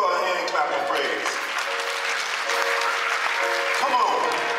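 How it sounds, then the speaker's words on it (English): Congregation at True Divine Baptist Church in Montgomery, Alabama clapping in praise, a loud, continuous wash of hand claps mixed with voices and sustained musical tones underneath. "You can give her a hand clap of praise."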